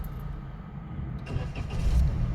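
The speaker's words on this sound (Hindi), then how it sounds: "अब सेल्फ मारो आगे को, स्टार्ट करो गाड़ी को" Car engine cranked with the key and starting up, a low rumble that builds and steadies into idle, close and fairly loud with no talking.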